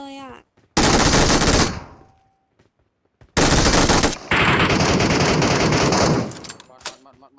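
In the video game PUBG Metro Royale, an enemy lying prone fires automatic gunfire in two long, loud, close bursts separated by a pause, with a voice speaking briefly around them.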